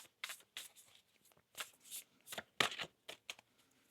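Soft riffling and tapping of oracle cards being shuffled in quick, uneven bursts, close and quiet.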